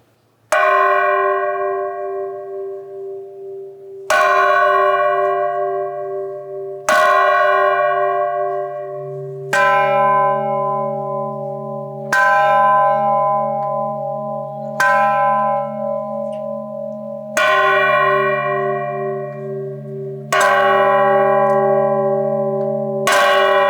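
Large bells of Rionegro Cathedral toll slowly and evenly for a funeral, each deep resonant strike ringing out and decaying before the next, about nine strikes in all.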